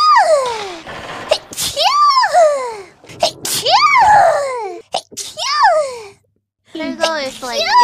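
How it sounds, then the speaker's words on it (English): Several abrupt, sharp sneezes from a woman on a livestream break up a stream of high-pitched, animated speech, with short silent gaps between the bursts. "Full sneeze on stream."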